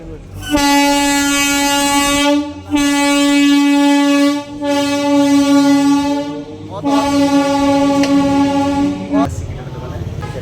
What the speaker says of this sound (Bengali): ট্রেন বেরো।